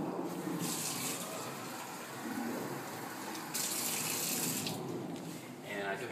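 Water running from a kitchen tap into a cup, measured for making sugar crystals, a steady close gushing stream that shifts in tone as it fills, with brief bits of talk nearby.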